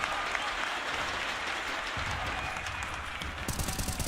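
Dense, loud applause and cheering from a large esports arena crowd during an IEM Counter-Strike major semifinal, steady throughout and swelling briefly near the end.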